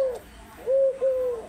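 A pet dove, one of the kept spotted and other doves, coos in a few soft, hollow notes: a short call, then two longer mellow coos close together, near and clear.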